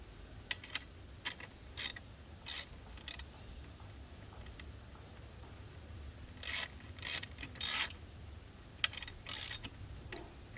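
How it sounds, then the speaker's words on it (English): A bicycle crank is worked loose with a tool, making bursts of quiet ratcheting clicks and mechanical ticks in irregular clusters against a faint, steady background. "now we're gonna set this crank loose"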